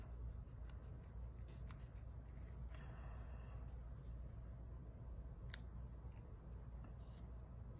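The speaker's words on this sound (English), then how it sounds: "I'm going to try to cut off the side here and get the curved part off." Scissors cutting plastic from a nail polish strip: a run of small, close snips and crisp clicks, sparse and irregular at a quiet level, with a sharper snip near the end and no voices.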